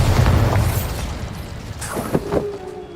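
The Bombarda explosion spell goes off in the video game Hogwarts Legacy: a loud, deep boom with rumbling bursts that fade over a few seconds.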